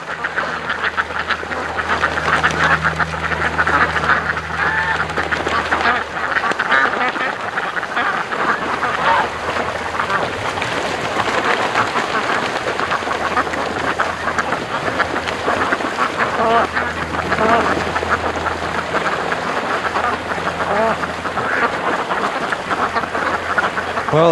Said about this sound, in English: Well, the ducks seem to be getting in the groove.